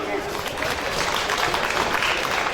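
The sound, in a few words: applause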